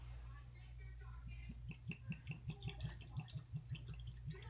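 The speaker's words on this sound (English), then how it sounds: "then we're going to pour in our vodka" Vodka poured into a cherry lemonade Kool-Aid slush over ice, heard as a run of quick, close glugging splashes that begin softly and grow into a steady, bubbling rhythm.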